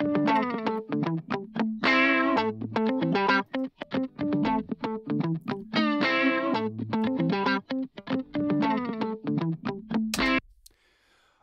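A soloed guitar bus in Logic 10.4, first dry and then with a warmth plugin switched back on, plays a bright, effected, chorused riff of rapid picked notes and chords in steady rhythm, loud and alone, ending abruptly.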